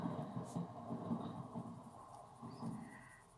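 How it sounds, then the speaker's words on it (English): A train rumbles past at some distance, a low steady rolling drone with faint metallic squeals drifting over it, heard indoors at a moderate level. "I apologize for the trains, guys."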